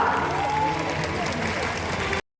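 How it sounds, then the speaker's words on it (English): An audience at an outdoor bird of prey show claps in a dense, sustained burst of applause with crowd noise, stopping abruptly. "So let's give them a big round of applause."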